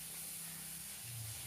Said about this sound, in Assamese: বিলাহীখিনি অলপমান ভাজি ল'ম।